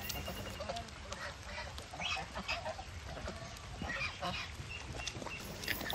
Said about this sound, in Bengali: আপনারা দেখতে পাচ্ছেন আমাদের ফার্ম হাউসের হাঁস।